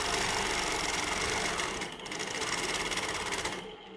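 Sewing machine running steadily for free-motion quilting of feather plumes, a fast, continuous mechanical whir close by. It dips briefly midway and near the end, and there is no talk over it.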